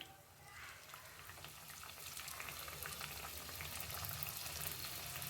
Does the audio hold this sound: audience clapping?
no